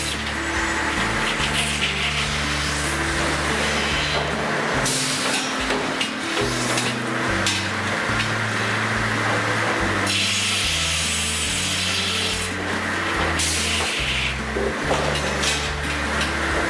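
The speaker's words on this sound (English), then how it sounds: "Here, bandsaw blades nearly 50 feet long are sharpened, tensioned, and balanced by hand." Abrasive scraping and filing fill a sawmill filing room where huge bandsaw blades, nearly 50 feet long, are sharpened and tensioned by hand, a loud, steady rasping with repeated strokes and pauses.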